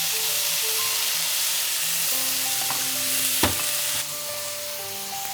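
Onions sizzle steadily in a hot pan, a close constant frying hiss with a brief clatter of stirring partway through.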